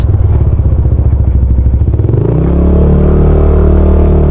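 A Yamaha NMAX scooter engine idles with a rapid, loud, close chugging pulse that settles into a steady smooth hum as it revs at night.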